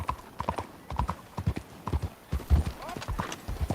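A horse's hooves clip-clop in Red Dead Redemption 2 Online, a steady, close rhythm of hoofbeats, with someone talking over them.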